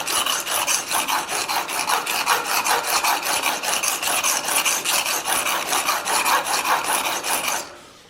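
Steady rasping strokes of a swept knife blade drawn across a 400 grit sharpening surface, a rhythmic scrape repeating several times a second, close and continuous before stopping abruptly.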